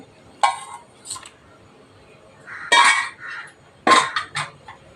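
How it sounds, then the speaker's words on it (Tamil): A utensil scrapes and clinks against a metal pot while gently stirring anchovy fish curry over low heat, in a few separate bursts, with quiet pauses between. "ரொம்ப இலக்க வேண்டாம் மெல்லமாக இலக்குனா போதும்"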